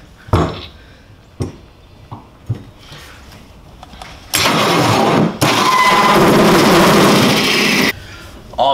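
Milwaukee hole saw with a 3.5 inch spider metal bit cutting a hole through the steel bed of a 2019 Ram 2500 truck: a few short knocks, then a loud sustained grinding whine that briefly breaks off and resumes before stopping.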